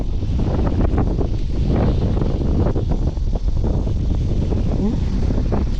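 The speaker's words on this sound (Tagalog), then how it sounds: "Malakas lang yung hangin." Loud, continuous wind buffeting the microphone, a rough roaring rumble that never lets up, with a voice briefly under it.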